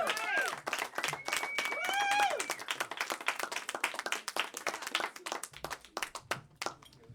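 An audience claps for a performer named Ryan in a sustained round of sharp, closely spaced handclaps, with cheering and whoops over the first couple of seconds.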